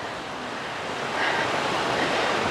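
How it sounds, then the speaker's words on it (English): Strong wind gusts at the Aareschlucht gorge in Switzerland, a steady loud roar of air buffeting the microphone that swells and thickens partway through, with no talking. "It's very windy."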